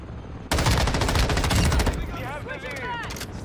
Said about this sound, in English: Literally gonna walk into a wall of gunfire and probably get melted.